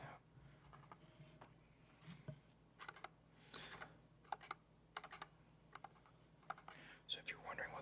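Quiet, rapid clicking of NuPhy computer keyboard keys, typed in uneven bursts with short pauses, close up and soft.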